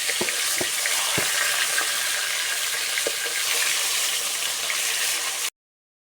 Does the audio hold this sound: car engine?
no